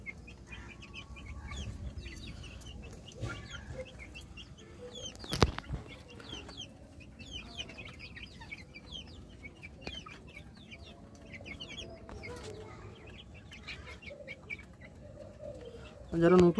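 A small backyard flock of chickens clucks softly and intermittently at moderate distance, low murmuring calls scattered across a quiet yard, ending with a brief louder sound.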